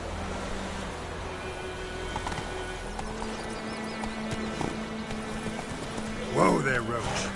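Roach, Geralt's horse in The Witcher 3, clip-clops steadily at a trot over a low game soundscape, then gives a short, loud neigh near the end.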